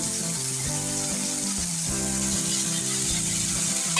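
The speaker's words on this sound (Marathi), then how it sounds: "काळा वाल घालते आणि आपण थोडासा परतून घ्यायचा." Black val beans sautéing in a pan for a traditional Maharashtrian mixed vegetable dish, a steady broad sizzle running close and continuous throughout, with faint low tonal hum underneath and no talking.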